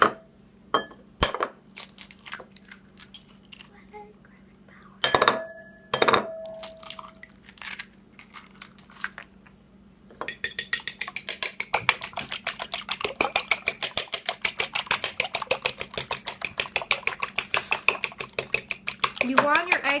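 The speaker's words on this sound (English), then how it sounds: "I'm going to crack my 2 eggs and beat them." Two eggs cracked for yeast doughnut batter, a few sharp knocks and clinks against a bowl, then rapid, rhythmic whisking that rattles steadily for about ten seconds, close and fairly loud.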